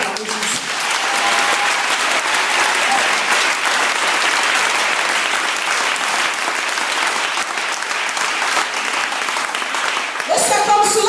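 A church congregation applauds steadily and loudly for about ten seconds, a dense continuous clapping with cheering mixed in, before it fades and a voice returns near the end.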